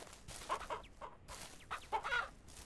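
Chickens in the ranching video game Ranch Simulator cluck in short, quiet bursts, several separate clucks spaced irregularly over a few seconds.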